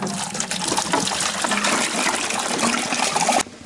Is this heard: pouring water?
yes